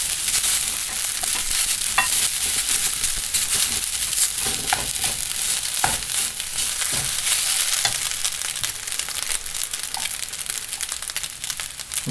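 Food is stirred in a hot pan while frying fried rice, a steady loud sizzle running throughout with scraping stir strokes and scattered clicks on top, no talking.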